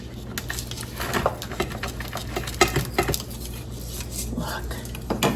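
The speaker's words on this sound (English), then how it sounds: "I'm just rocking the knife in here because you want it to be a slice" A knife rocks back and forth through a no-bake popcorn cake, making soft scraping and light clinking taps against the plate, close and fairly quiet, with a faint hum underneath.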